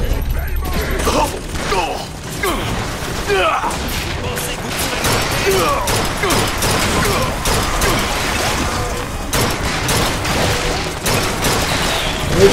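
In the BioShock Infinite video game, a turret deploys and opens fire, giving off clanking mechanical noises and bursts of rapid gunfire through a dense, busy battle mix, while a voice shouts briefly over it.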